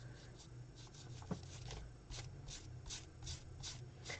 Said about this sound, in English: my paintbrush was too wet again, so I'm going to kind of dry it off on my towel.